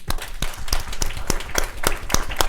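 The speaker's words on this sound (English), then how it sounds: "So, round of applause for all of you." Conference audience at a health industry town hall keynote closing gives a short round of applause, a few distinct claps at first that soon run together into a steady, moderately loud clatter with no talking over it.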